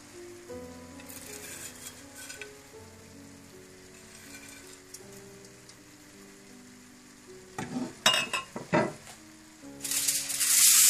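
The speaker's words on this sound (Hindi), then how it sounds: "और प्याज जो हमने फ्राई करके रखे हुए थे वो डाल दें।" Fried onions go into a pot of degi chicken biryani, giving a soft sizzle under quiet background music that swells into louder crackling bursts near the end.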